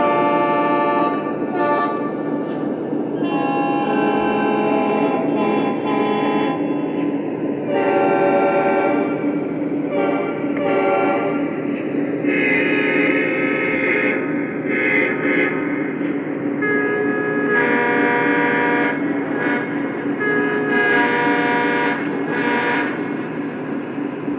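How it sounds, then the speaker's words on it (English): Horns of a Lionel Legacy ES44AC model diesel locomotive in EJ&E heritage paint, sounding in a series of loud, sustained blasts with short breaks between them as the different selectable horn tones play one after another, with no talking. "Let's take a listen to the five horns that are selectable on this locomotive"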